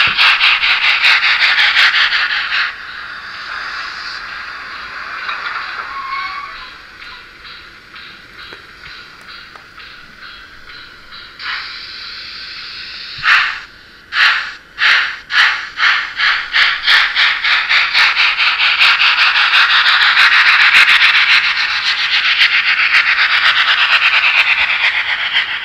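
A Gützold class 65 steam locomotive model in TT gauge with sound decoder gives a bright, hissing exhaust, first a steady broadband rush, then distinct rhythmic chuffs quickening into a fast, even beat, loud and close with no voices.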